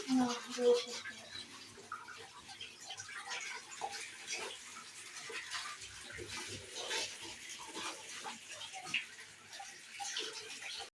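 Dirty dishes and baking utensils washed under running tap water after making a homemade chocolate cake, a steady splashing stream with clinks, alongside some speech.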